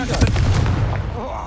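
A Confringo fire spell bursts in Hogwarts Legacy combat, a loud booming blast with a rumbling low end that sustains for over a second, with a voice nearby.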